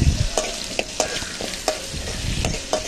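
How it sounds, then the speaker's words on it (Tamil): Onions sautéing in a pan for prawn curry sizzle steadily while a spoon scrapes and stirs in a regular rhythm of about two strokes a second, close and loud, with no talking. "ஸோ இன்னும் கொஞ்சம் நேரம் வதக்கணும்."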